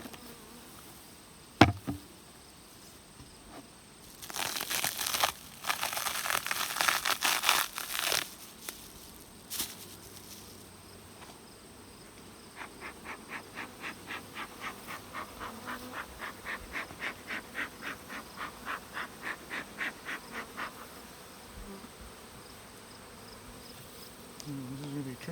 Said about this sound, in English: no shortage of bees, that's for sure.